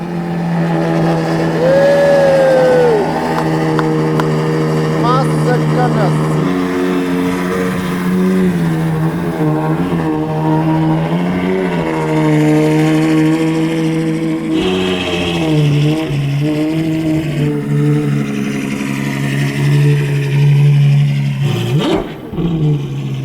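A Novitec Ferrari 812 GTS N-Largo S with a 6.5-liter naturally aspirated V12 revs hard outdoors in windy weather, its loud wailing engine note climbing and falling through several sustained pulls before a final sharp blip.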